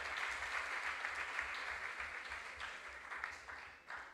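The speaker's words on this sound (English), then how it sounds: "Right, a round of applause for Araba" An audience at a junior science and maths quiz claps together in a steady round, somewhat distant, fading slightly toward the end.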